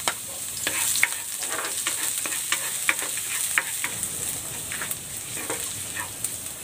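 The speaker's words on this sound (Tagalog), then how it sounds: "Magigisa na ako ng bawang." Garlic sautéing in a pan gives a soft, steady sizzle broken by repeated light clicks and scrapes of stirring, heard close with no voices.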